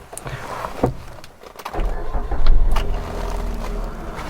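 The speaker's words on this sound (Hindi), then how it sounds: "तो सबसे पहले मैं गाड़ी को स्टार्ट करने वाला हूँ।" A few sharp clicks and rustles, then a Maruti Suzuki Swift engine cranks and catches, swelling briefly before settling into a smooth, low idle.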